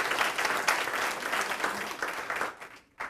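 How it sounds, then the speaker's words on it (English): An audience breaks into sustained applause at a local community talk event, a dense, steady clatter of many hands clapping that carries on for about three seconds before briefly dropping off and picking up again. "So why don't you give them all a round of applause"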